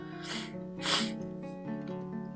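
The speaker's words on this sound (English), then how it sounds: "There's a tiny little trumpet toot that came from my nose because the air just suddenly started rushing through." A tiny trumpet-like toot from a congested nose as air suddenly rushes through while sniffling, a faint, brief tonal honk with a few short wavering pitches, close and alone.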